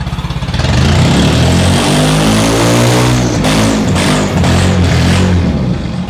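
A loud, rough engine on a car built by a robot snarls steadily close by and sounds like a buggy, with raspy revving and buzzing harmonics that hold for several seconds and never drop.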